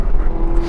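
A 2018 Chevrolet Camaro ZL1 1LE on a racetrack coming back on the throttle out of a corner, a brief steady engine drone heard close.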